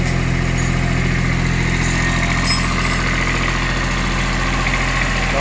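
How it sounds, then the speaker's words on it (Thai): A steady, close Japanese diesel tractor engine on an A-155 tractor runs at raised revs, a constant chugging drone with no talking. "เสียงนิ่มๆครับเสียงนิ่ม ๆรอบเครื่องขึ้นนะครับรอบเครื่องขึ้น"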